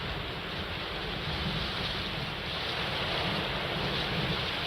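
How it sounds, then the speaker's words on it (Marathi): A steady, dense roar of rushing water fills the scene as the Ujani Dam gates discharge a heavy flow into the Bhima river, loud and continuous without a break. "उजनी धरणातून भीमा नदी पात्रात साठ हजार क्युसेकनं पाण्याचा विसर्ग सुरू आहे"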